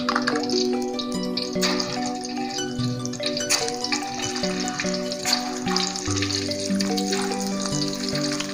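Rolled eggs (telur gulung) frying in hot oil make a close, continuous bubbling sizzle under a steady tonal hum, with scattered clinks and small stirring noises and no speech.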